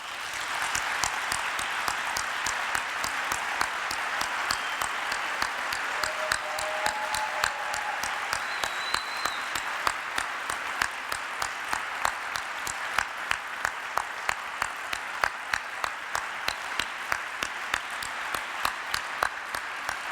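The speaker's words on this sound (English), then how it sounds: "give her a big, big round of applause as she comes in" An audience at a Latin dance partnering lecture gives a long, sustained round of applause, dense clapping continuing steadily throughout with a few sharp claps standing out.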